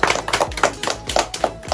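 Hands clapping at a child's 12th birthday celebration, a steady rhythmic patter of close claps repeating at an even pace with little else around them.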